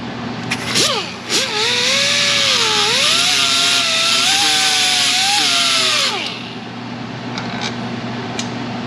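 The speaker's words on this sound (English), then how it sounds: "I need to grind that off" A rotary tool fitted with 80 grit spins up and grinds off a weld defect on a 1995 Jeep Wrangler 4.0, a loud close whine that rises, wavers under load for about five seconds, then winds down to quiet ticking.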